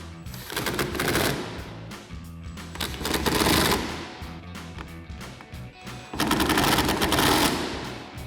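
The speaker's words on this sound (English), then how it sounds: "grab our 13 mil socket on our impact, and we're gonna go ahead and tighten these clamps down" An impact wrench with a 13 mm socket hammers down the tonneau cover clamps on a 2024 Toyota Tacoma, in three loud rapid rattling bursts close by with short pauses between.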